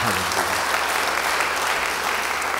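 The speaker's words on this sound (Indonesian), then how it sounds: "Beri tepuk tangan bagi dia." A church congregation gives steady, full applause during a sermon, the clapping thick and unbroken throughout with a brief voice fading out at the start.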